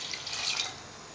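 Water pours briefly into a pot of washed lentils, including moong dal, for idli sambar in a home kitchen, making a faint, soft splashing trickle that lasts about a second.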